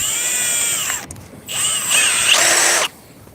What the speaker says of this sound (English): But we will drill this out